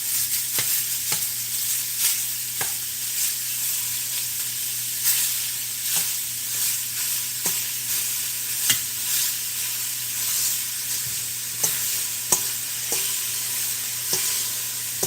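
Italian sausage sizzles loudly and steadily in a pot for lasagna soup, with repeated sharp scraping knocks as the meat is smashed down with a utensil, close by and without talk.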